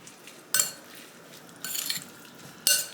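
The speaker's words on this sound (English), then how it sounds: "I'm gonna mix this up" Seasoned vegetables with salt, sesame oil and garlic are tossed in a bowl, three short bursts of wet clinking and stirring, close and clear, with quiet pauses between.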